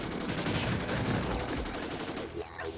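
In the Terraria video game, a UFO fires its laser and missiles in a dense, continuous crackling barrage of rapid gunfire-like blasts and pops that stays loud throughout.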